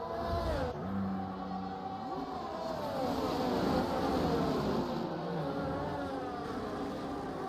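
Race cars in the Schumacher Series sim-racing USA Grand Prix drone along a long straight, engine notes climbing and dropping through gear shifts in a steady, fairly loud roar with no voices.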